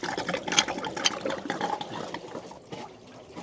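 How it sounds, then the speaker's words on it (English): Water drains out of a swimming pool filter tank, a close, irregular gurgling and trickling with small splashes that eases off toward the end. "Open your filter drain and drain the water out from the filter tank."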